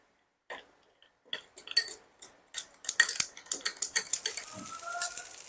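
A spoon taps and scrapes in quick clicking bursts while mixing chili powder and other ground spices with a little water for a cauliflower paneer dish, starting sparse and growing denser and louder up close.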